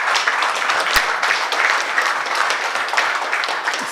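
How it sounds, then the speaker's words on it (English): Audience at a closing ceremony for a community gathering breaks into sustained applause, a dense steady wash of many hands clapping at even loudness throughout, with one sharp louder clap standing out near the start. "give a big round of applause to our development partners and the private sector"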